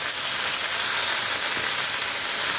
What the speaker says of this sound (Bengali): আর চিংড়ি মাছ খুব একটা বেশিক্ষণ টাইম ধরে ভাজে না, তাহলে শক্ত হয়ে যায়। আর হাই ফ্লেমেতেই ভাজছি,